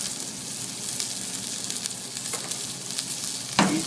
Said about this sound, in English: I'm gonna go ahead and sear it.